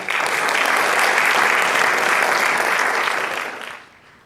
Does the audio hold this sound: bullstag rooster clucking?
no